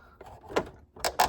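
A remote car starter makes a few sharp, close clicks and clacks in quick, irregular succession, with brief bursts of mechanical rattling.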